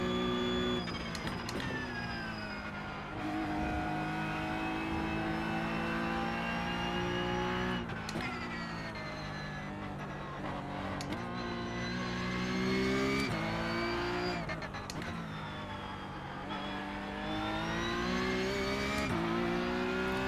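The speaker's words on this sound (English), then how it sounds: "this is a GT3 Porsche coming up on me" A GT3 Porsche race car closes in during a simulated iRacing endurance race on the Nürburgring Nordschleife. A loud, continuous engine drone with rising pitch sweeps and abrupt gear-shift drops runs throughout, with no talk.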